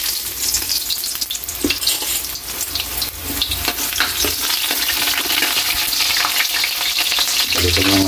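Ginger frying in hot oil in a wok for pork dinuguan, a loud, dense, continuous sizzle with occasional stirring scrapes, close up.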